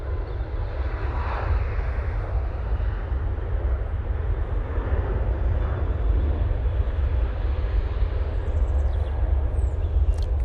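A TUI airliner rotating on its takeoff roll at Manchester Airport, a steady, heavy jet roar with deep rumble filling the whole stretch at constant loudness, no voices over it.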